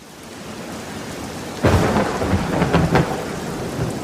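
A thunderstorm breaks with a sudden loud thunderclap that rolls on over steady heavy rain, followed by a few further rumbles, all without voices.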